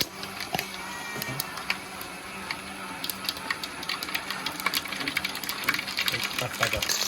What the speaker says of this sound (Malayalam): വെളിച്ചെണ്ണ ഒഴിച്ചിട്ട് ഇപ്പോൾ കുറച്ച് ഉലുവ ഇട്ട് കൊടുക്കണം